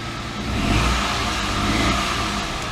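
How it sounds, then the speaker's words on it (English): A Toyota Aygo, Citroen C1 or Peugeot 107 engine runs steadily up close after starting, revving slightly before settling into an even, loud hum. "We have our running car again."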